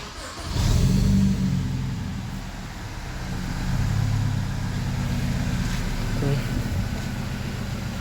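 A BMW engine just fitted with a replacement Valvetronic unit cranks and starts, briefly revving before settling into a steady idle, close and fairly loud with no talking.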